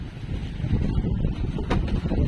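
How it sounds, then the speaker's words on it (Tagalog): Low, blustery rumble of wind buffeting the microphone on a tuna fishing boat under overcast skies, steady and fairly loud throughout. "At mahangin na, makulimlim na."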